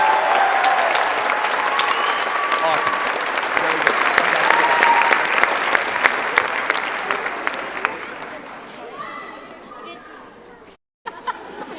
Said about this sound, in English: One more round of applause for our 8 soloists here.